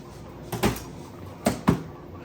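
A drawer on a Milwaukee Packout tool box slides shut with a few short knocks and scrapes, loud and close, with quiet gaps between them.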